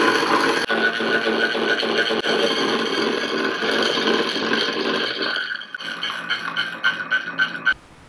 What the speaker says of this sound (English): I'll use the saw to cut four slits 90 degrees apart